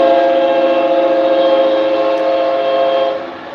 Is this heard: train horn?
yes